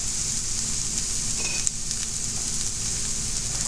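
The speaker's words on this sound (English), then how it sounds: "you can hear them take off right away when they go into the pan" Vegetables sizzling in hot oil in a pan over a high gas flame, a steady, close hiss and crackle that carries on without a break.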